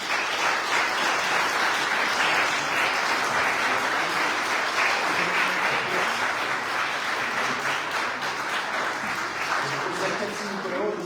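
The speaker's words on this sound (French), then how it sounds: "Et je vous demande de les applaudir." A crowd applauds at a town council installation meeting, a dense and steady wash of clapping that holds for about eleven seconds without a break.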